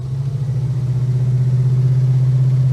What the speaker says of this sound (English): I think this motor likes running one pot down.